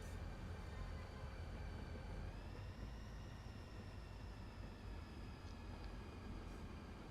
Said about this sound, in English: Got the coal train coming in.